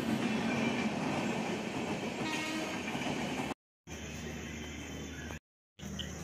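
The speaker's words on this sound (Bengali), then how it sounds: "বন্ধুরা আমাদের ট্রেনটা এসে গেছে" A train rolling into a station, a loud continuous rumble with rattling carriages close by, briefly broken by dropouts, with faint voices around.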